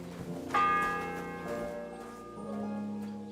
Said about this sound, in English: The fourth bell.